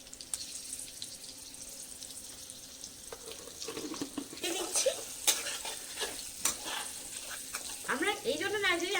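Potatoes with lightly browned onion and a pinch of turmeric fry and get stirred in a pan for a homestyle Bengali country-chicken dish, with soft sizzling, scraping stir strokes and a brief trickle of tap water nearby.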